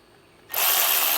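A small 12-volt cordless ratchet whirs into action partway through, snugging a bolt on the starter of a 2005 Honda Accord, after a brief quiet moment; the motor noise then runs loud and steady to the end.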